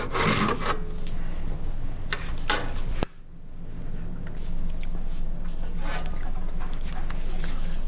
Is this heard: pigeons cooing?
no